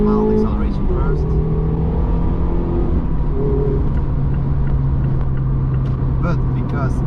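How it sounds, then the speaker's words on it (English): A Mazda MX5 ND under mild acceleration, a steady engine drone that rises gently in pitch, heard from inside the car under continuous talking. "Let's do a mild acceleration first"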